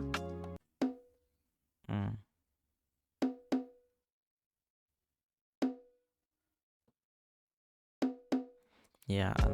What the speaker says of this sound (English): It's a tribal bongo. It's a bongo also, right? It sound like this.